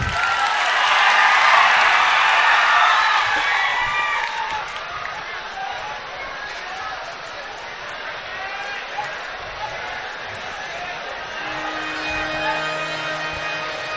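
Crowd at a Gurupurnima Mahotsav celebration bursts into loud applause and cheering for Jigneshbhai Barot's entry, peaking early and then tapering into a steadier sustained clapping.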